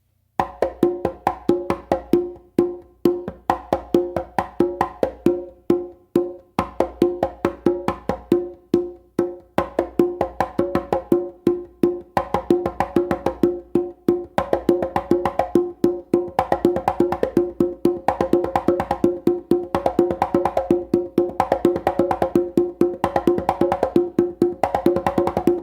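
Congas played in a continuous coordination exercise, steady fast hand strokes mixing resonant open tones with soft ghost-note taps from the non-dominant hand, close and loud throughout with no voices.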